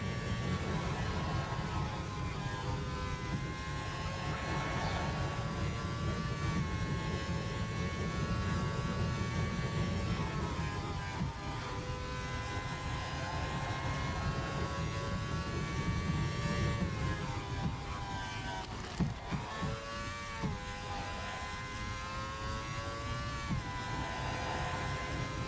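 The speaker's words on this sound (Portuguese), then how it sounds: "Para vocês admirarem um pouquinho o motor da Lotus." Lotus racing car engine in the Formula Legends video game, a sustained buzzing drone with steady pitch and slight rises and falls, holding at a constant level throughout with no speech.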